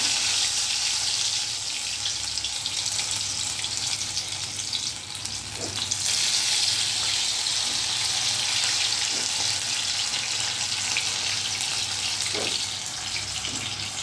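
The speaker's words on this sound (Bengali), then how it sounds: "এবার আমি এই কর্নফ্লাওয়ারের ব্যাটারের মধ্যে ডুবিয়ে ভিন্ডিগুলোকে হালকা আঁচে ভেজে নেব" Okra pieces coated in cornflour batter frying on low heat in oil give a continuous, even sizzle that holds steady and close for the whole stretch, with a few faint clicks underneath.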